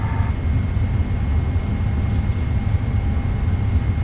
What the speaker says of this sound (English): we are now taxiing to the runway for takeoff